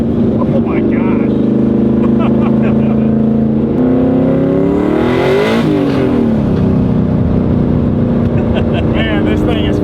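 A 700 hp Scion FR-S revs hard and accelerates, its engine note climbing and shifting through loud, rising tones, with a person speaking over it.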